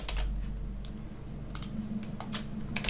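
Several soft clicks of computer keys pressed in quick succession for a keyboard shortcut in SketchUp, close and fairly quiet over a low background hum, with no talking.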